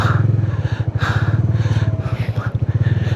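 Motorcycle engine running steadily up close while riding a snowy mountain road in winter Spiti, with a loud, even throb and a few slight surges in throttle, no voices.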